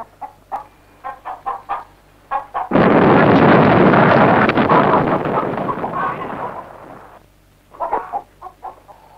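A mine blast tears through mountain rock in one loud, sustained roar of rumbling debris that slowly fades, framed by a hen clucking close by before and after.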